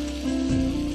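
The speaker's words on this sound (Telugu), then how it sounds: "ఫ్రై చేసుకుంటున్నాం బోత్ ద సైడ్స్." Bread slices frying in butter in a pan for amla toast, a steady close sizzle with a faint crackle running continuously and fairly loud, no talk.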